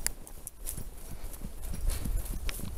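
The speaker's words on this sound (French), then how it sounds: "Tu veux qu'on trotte un peu?" Horse hooves trotting on a summer trail ride in the Vosges, a steady rhythmic clip-clop close by under faint outdoor background.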